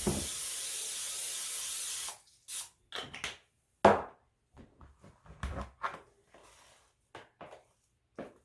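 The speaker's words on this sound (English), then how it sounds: "You just want to get your spray and spray it good." A steady hiss of butter spray into a dish for about two seconds, followed by scattered clinks and handling noises of the dish being set down and moved.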